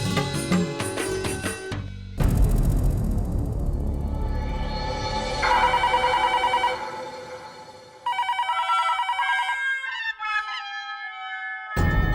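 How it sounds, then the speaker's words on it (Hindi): A telephone ringing in a sitcom scene, a repeated electronic ring with short breaks between bursts, mixed with background music and tones, fairly loud and with no talk over it. "मैं घर पे फोन लगा रहा हूँ, घंटी भी बज रही है"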